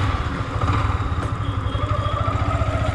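A motorcycle engine idles at close range with a steady, even mid-pitched putter, running continuously on its own after a battery change, before the ride continues toward Maldevta.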